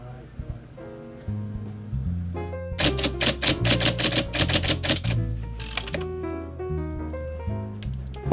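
A typewriter at a typewriter repair shop clacks through a fast burst of keystrokes, with a few slower strikes before and after, heard under background music.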